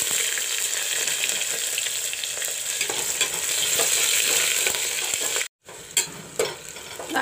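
Cumin seeds, cut onions and green chilies frying in hot oil for khatta daal, a dense steady sizzle close by, with a brief drop near the end followed by stirring clatter.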